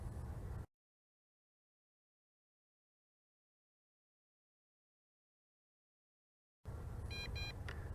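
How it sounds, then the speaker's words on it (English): An MJX Bugs 5W (B5W) GPS WiFi FPV drone controller gives a quick cluster of faint, high beeps as video recording starts, heard near the end after a long stretch of silence. "And double beeps, and there is a video icon that appears"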